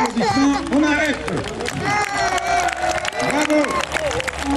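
A crowd at a Roman cavalry show cheers and claps in a busy, loud wash of voices and applause, with excited shouting and chatter throughout.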